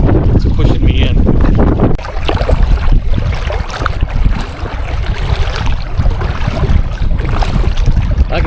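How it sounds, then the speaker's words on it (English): Strong wind roars and buffets the microphone in loud gusts outdoors by Littlefield Lake in Exira, Iowa, with a voice talking intermittently underneath. "The wind is really strong right here. It's pushing me in."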